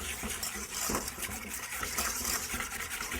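Egg yolks and sugar being mixed together in a bowl for a custard ice cream base, with steady scraping, clinking and stirring noises that continue without pause and no talking.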